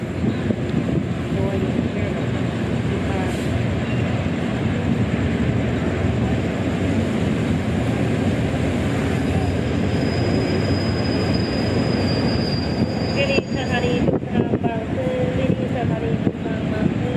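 A train at Bang Sue Junction railway station in Bangkok at night produces a loud, continuous rolling rumble. A thin, high wheel squeal rises in the later part over steady background noise.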